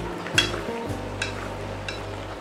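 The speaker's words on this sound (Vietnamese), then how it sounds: "Trộn lên." Braised pork seasoned with salt, sugar and MSG gets stirred in a pan, three distinct scraping strokes over a soft, continuous sizzle, close and moderately loud with no voices.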